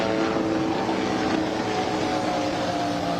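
A Super Cat racing powerboat engine roars continuously at high pitch during a race at Clearwater, Florida, loud and steady, with no pauses.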